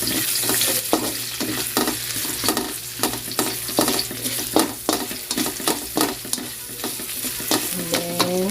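Onions sizzle in a home-cooking pan still used from frying chicken. They are stirred with repeated sharp scrapes over a continuous hiss of frying, with no talking.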